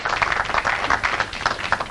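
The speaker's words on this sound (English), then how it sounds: "Worthy of applause." Audience applause at a 1999 World Grand Prix darts match, a steady patter of many hands clapping at moderate loudness for the full stretch, without a break.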